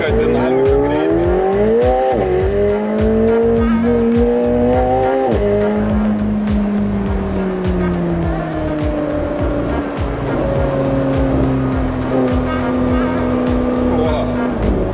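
A 2024 McLaren 750S Spider supercar accelerates hard, its loud engine climbing steadily through repeated rising pitch sweeps as gears change, close and continuous for the whole stretch.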